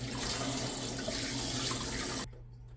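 Raw chicken being rinsed under a running kitchen tap, a steady close hiss of water splashing in the sink that stops abruptly near the end, with no talking.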